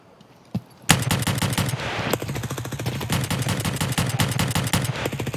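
Rapid automatic gunfire aimed at enemies in a video game: a single sharp shot, then a long, loud, sustained stream of machine-gun fire with evenly spaced bursts, close and dominant throughout.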